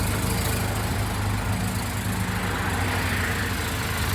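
Mazda RX8 rotary engine in a drift build, started and left idling with a Bridgeport port, giving a loud, dense, steady running drone close by with no talk over it.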